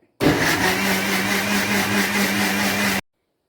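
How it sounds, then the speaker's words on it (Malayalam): A mixer grinder blends powdered sugar into banana cake batter: a loud, steady whirring motor hum that starts abruptly, holds for about three seconds, then cuts off into silence. "ഇതിലേക്ക് പൊടിച്ച് മാറ്റി വെച്ചിരിക്കുന്ന പഞ്ചസാര ചേർത്ത് കൊടുക്കാം നന്നായിട്ടൊന്ന് ബ്ലെൻഡ് ചെയ്തെടുക്കാം"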